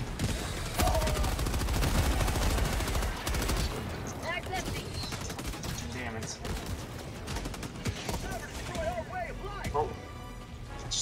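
Gunfire in the co-op shooter Helldivers 2, dense rapid bursts and heavy shots filling the scene, with a player talking over the battle.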